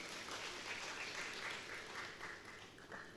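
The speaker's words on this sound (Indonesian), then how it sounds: "Kasih tepuk tangan dulu dong buat Tuhan Yesus." Church congregation applauding during a sermon, a soft, diffuse patter of clapping heard at a distance and fairly faint throughout.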